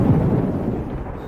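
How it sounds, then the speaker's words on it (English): A storm near an airport gives off a low, steady rumble of thunder that rolls continuously and fairly loudly, with no voices. "thunder begins to reverberate around the airport"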